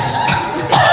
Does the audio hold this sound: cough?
yes